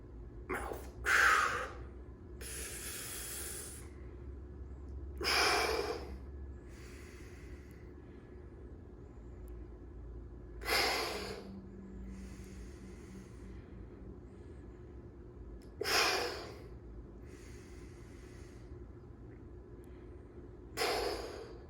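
Sharp nasal inhales during a beginner dumbbell press on a Bosu ball, five distinct sniffs spaced about every five seconds, close and clear over a low steady room hum.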